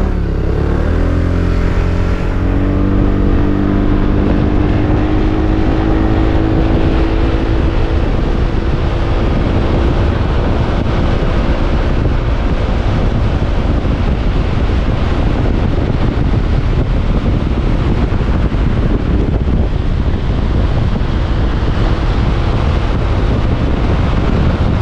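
A Voge SR3 or SR4 maxi-scooter hums steadily while riding, its engine pitch rising early on and then holding, under heavy wind rush across the microphone.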